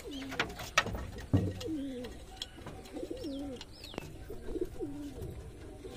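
Madras roller pigeons, black-eyed birds kept at a home loft, cooing in repeated soft rolling phrases close by, with a few sharper flutters and knocks, while someone talks over them.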